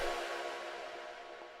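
An acid synth shot drenched in effects rings out loud at once, a bright, dense, sustained burst with a resonant buzzy edge that slowly fades over a second and a half, alone with no voices.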